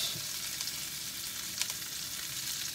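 Pork filet mignon sizzles and fries steadily in a pan, an even close crackle with a few brief pops and no talking.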